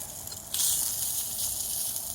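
Summer sausage sizzles in a pan at a riverside tent campsite, a soft steady hiss that swells slightly after the first half second and keeps going, fairly faint and with no talking.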